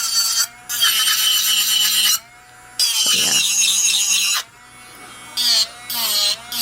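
A portable electric nail drill used on acrylic nails whines in high-pitched bursts, starting and stopping repeatedly, with the pitch shifting under load and short quiet gaps between runs.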